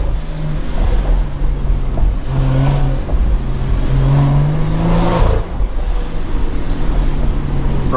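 A loud Stage 2+ tuned BMW revs hard with a droning exhaust, pitch rising and falling over several throttle blips, heard steadily up close and alone, with no distinct pops or bangs standing out.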